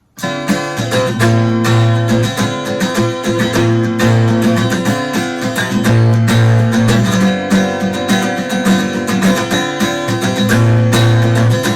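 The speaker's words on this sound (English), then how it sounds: "And the chorus sounds something like this." The chorus of a song strummed on a guitar: a loud, continuous run of busy rhythmic chord strokes cycling through four chords, played solo without any talking.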